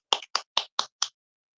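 Five crisp hand claps at a church gathering welcoming a preacher, evenly spaced and close, then silence.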